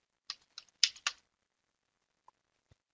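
Several quick keystrokes on a computer keyboard while editing a yum configuration file, a burst of four or five close clicks followed by silence with a couple of faint isolated taps.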